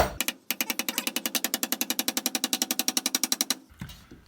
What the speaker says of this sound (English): we're going to hammer it in.